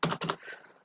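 Quick keystrokes on a computer keyboard while a Terraform variables file is written, a short close burst of clicks then a pause and a second burst fading out.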